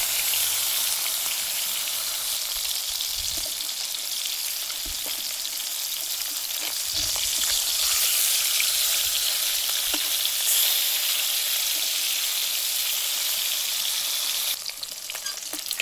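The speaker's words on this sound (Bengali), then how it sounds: "কড়া গরম হয়ে গেছে, তেল দিয়ে মাছগুলোকে ভেজে নেব।" Fish and prawns frying in hot oil in a heated pan, a continuous loud crackling sizzle that holds steady throughout with small pops and a brief disturbance near the end.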